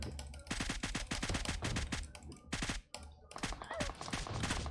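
Rapid bursts of automatic gunfire in PUBG Mobile, dense repeated shots in quick rhythm for most of the stretch, with brief pauses and a short gap before firing resumes, loud and close.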